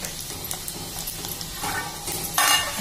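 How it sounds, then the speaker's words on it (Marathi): Mustard seeds, garlic and cumin frying in hot oil for a tempering, a close steady sizzle with a spoon stirring and clinking against the pan, swelling louder near the end. "मोहरी टाकले अर्धा चमचा आणि तडतडली की लसूण टाकलं, जिरं टाकलं"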